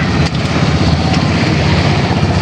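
A boat engine drones loud and steady with low rumbling and broadband noise, continuous throughout, as the boat approaches the seashore close by.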